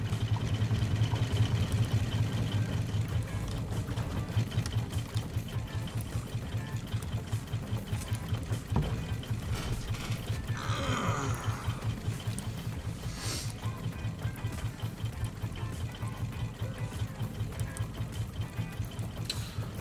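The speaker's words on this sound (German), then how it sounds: "Soll ich die Motoren schon mal ausschalten?" Boat motors hum steadily on a raft in the survival game Raft, a continuous low mechanical drone with a rapid rhythmic pulse, loud and close throughout with no talk.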